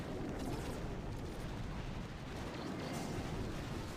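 Grenadier troops in the mobile strategy game Boom Beach set off a continuous, dense barrage of overlapping explosions and booms, a rumbling, crackling wash with no gaps, fairly faint overall.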